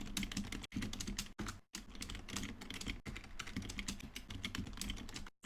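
Steady, fast typing on a computer keyboard, close and continuous clatter of keys with a few brief pauses, no voices.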